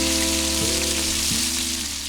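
Blackthroat seaperch, a fatty fish, sizzling as it pan-grills in oil, a steady dense crackle that holds loud and close throughout with a faint low hum beneath, no voices.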